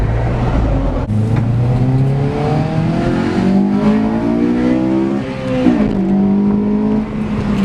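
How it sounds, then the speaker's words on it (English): A car engine revs hard at a car meet, loud and close, climbing and falling through several throttle blips with a rough, sustained roar and no talk over it. "How do you feel about Izzy revving your car right now?"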